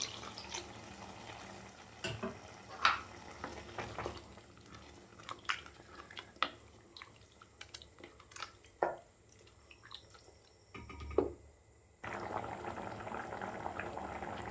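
Water bubbles and simmers steadily in a pot of basmati rice for mushroom biryani, with scattered drips and small clinks, then a steady rush of liquid near the end.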